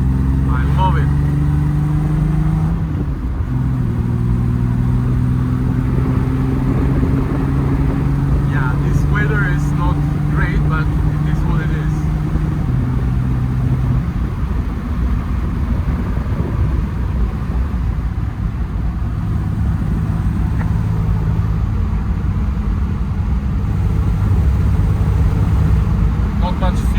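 A 1970 Triumph TR6 engine hums steadily through a drive, a loud continuous drone with shifting pitch as it works through the revs, while a person speaks excitedly over it at times.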